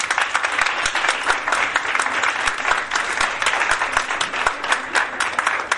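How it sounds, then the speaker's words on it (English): An audience at a Montessori foundation teachers training workshop claps loudly and continuously, a dense steady applause of many hands heard close throughout. "A big round of applause for that."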